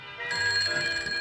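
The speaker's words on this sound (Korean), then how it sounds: "허탈한 취소 전화가 날아들었는데요" A telephone rings with an incoming call in a film scene, a bright electronic ring that starts sharply after a brief quiet moment and holds steady, close and fairly loud, with no talking.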